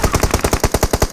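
Rapid automatic gunfire from a PUBG Mobile match on the Erangel map, a loud, steady burst of about a dozen evenly spaced shots with no talking.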